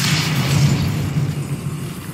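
Depulso spell cast in Hogwarts Legacy, a loud, sustained booming rumble with a deep low-end roar that swells and lingers for about two seconds, standing alone.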